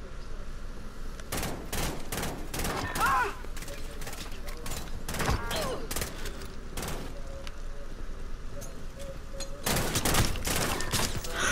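Repeated bursts of game gunfire crack out in clusters, loud and close, with short gaps between volleys and a heavy cluster near the end, while players chat over the shooting.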